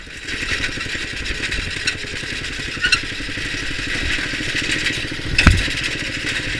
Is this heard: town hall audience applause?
no